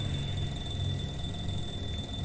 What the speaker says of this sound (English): Oh, that's the alarm clock. I thought it was a phone going off again.